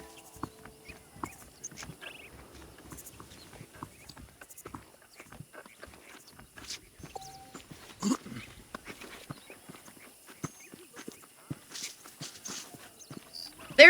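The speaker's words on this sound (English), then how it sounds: "The horses are saddled up over here." Horses clip-clopping at a walk in the Red Dead Redemption video game, with scattered close hoof clops, faint rustles and background game ambience.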